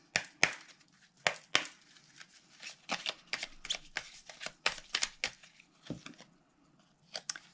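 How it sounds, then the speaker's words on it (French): Oracle cards are shuffled and drawn by hand, with a rapid series of crisp riffling slaps and flicks in uneven bursts, close and fairly quiet, with no talk. "Donc je vais maintenant vous sortir une carte avec les murmures des anges."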